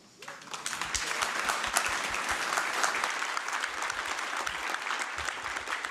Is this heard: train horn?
no